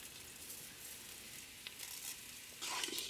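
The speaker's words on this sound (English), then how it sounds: "Oil in, just a couple of tablespoons. Coarsely ground peppercorns, 1/4 teaspoon of hing, a teaspoon of cumin seeds." Cumin seeds, coarsely ground peppercorns and hing sizzling in a couple of tablespoons of oil for khichdi, a soft, steady hiss with a brief louder burst of sizzle near the end.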